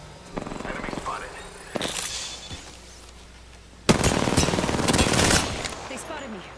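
Bursts of automatic gunfire and scattered shots in a shooter video game, coming in clusters with a loud, dense stretch near the end, mixed with game sounds and voice lines.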